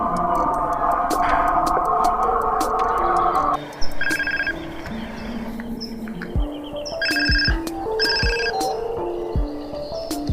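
A telephone rings in repeated short bursts before the call is answered, sounding indoors among other background sounds.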